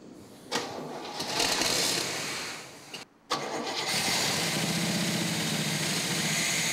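A Pontiac Firebird engine with a suspected fuel pump problem cranks and catches, its rough starter whirr breaking off briefly before the motor fires and settles into a steady, loud running drone.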